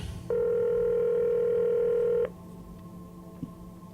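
A telephone dial tone sounds as a steady, loud electronic hum for about two seconds, then stops abruptly, leaving a quiet room.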